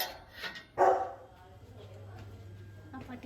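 A dog near a hostel lets out a short, fairly close bark burst early on, followed by lower whimpering noises over steady background hum, with people talking around it.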